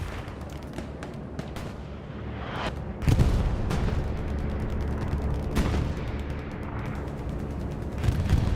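Heavy explosions from a bombing run called in on a road in a multiplayer war video game, a dense continuous rumble with a sharp blast near three seconds and repeated booms, loud and up close.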